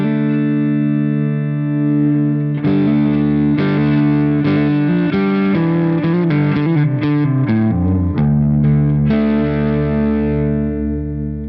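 Electric guitar played through an APFX Primo effects pedal with its gain control being varied, giving sustained distorted chords and picked notes at a steady, loud level throughout, with no talking.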